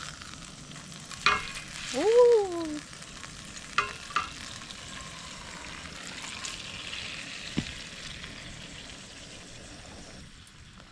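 Beans and food sizzle in a pan over a campfire outdoors, a soft steady frying hiss with occasional clinks and a brief exclamation from a man nearby.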